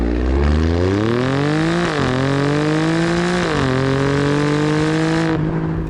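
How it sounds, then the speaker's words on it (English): A 2018 Alfa Romeo Stelvio Quadrifoglio's exhaust note rises and falls through several loud, close revs, with the engine pitch climbing in steps, then settling into a steady, sustained drone. "The good for the Stelvio has to be the exhaust note."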